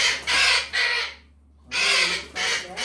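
Two parrots with clipped wings near a cage give loud, harsh squawking calls in repeated bursts, going quiet for a moment in the middle before screeching again.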